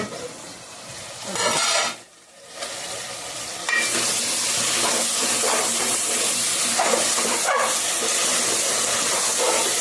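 Tamarind juice poured into a hot pan of egg and eggplant curry with sweet potatoes, a loud steady sizzle and steam hiss that surges after a brief lull and carries on strongly to the end.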